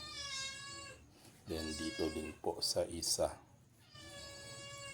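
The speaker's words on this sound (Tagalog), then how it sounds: "Ayan yung pusa, hihingi na naman." A cat meows repeatedly while begging for food during the making of palitaw, a rice-cake snack, in the Philippine countryside. The long, clear meows come at the start and again at the end, with someone speaking in between.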